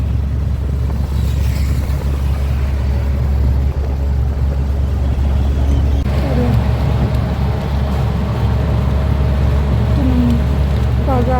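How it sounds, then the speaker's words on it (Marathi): Morning traffic jam on a Pune road, a loud continuous rumble of idling and creeping engines with a brief horn-like tone, heard from close by. "इतकी ट्रॅफिक जाम आहे"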